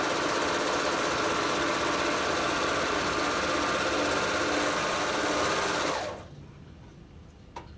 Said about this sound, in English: So here's my rolled hemming on my chiffon.